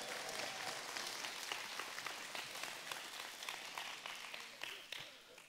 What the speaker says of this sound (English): Y'all give Noah a round of applause